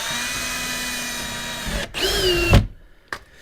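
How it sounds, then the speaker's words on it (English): A power drill whines steadily at close range on race car bodywork, revs up briefly, then stops abruptly, followed by a short final burst. "if you use a drill enough on a race car"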